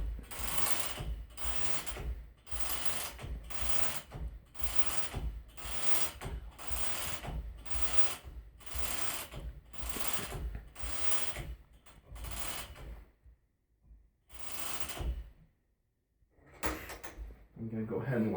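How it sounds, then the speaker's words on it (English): A Gammill long-arm quilting machine's big hand wheel is turned by hand to roll backing fabric, giving a steady train of rhythmic ratcheting clicks and rolling thuds up close, then a pause and a few final clunks near the end. "the heel of my hand is on the big hand wheel, and that way I can put a little drag on it as I roll"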